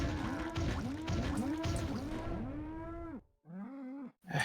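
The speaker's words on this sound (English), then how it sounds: "Cows are really angry." Cows mooing in the South Park video game: several overlapping low, drawn-out moos sound close and loud in a rough rhythm, followed by a couple of separate, more tonal moos.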